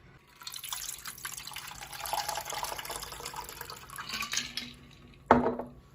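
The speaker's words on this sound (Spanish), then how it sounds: "Le agregamos el agua hirviendo." Boiling water poured into pineapple gelatin mix in a home kitchen, a soft continuous splashing pour lasting several seconds, ending in a brief louder splash, close and fairly quiet with no talking.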